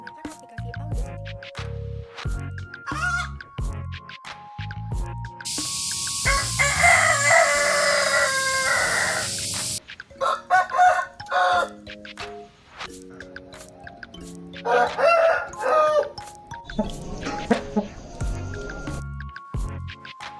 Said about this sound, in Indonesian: Pengambilan sampel suara ayam dilakukan pada pagi hari.